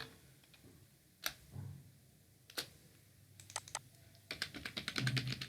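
Clicks and taps on a computer keyboard, a few isolated keystrokes early on, then a quicker, denser burst of typing toward the end, close by and moderately loud with no talk.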